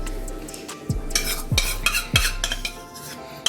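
A spoon stirs macaron batter for coconut and chocolate macarons, scraping and clinking against the bowl in a few uneven strokes with dull knocks, close and alone without talk.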